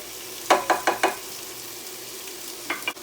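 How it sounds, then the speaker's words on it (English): Bell pepper, garlic and scotch bonnet pepper sautéing in a pan, with a soft steady sizzle and a quick run of four close stirring scrapes, then two more near the end. "I have some bell pepper, garlic, and some scotch bonnet pepper. We're just gonna saute this until it's kind of translucent."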